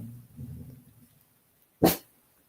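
A pet dog indoors gives a low growl that fades, then after a pause lets out a single loud, sharp bark, close to the listener.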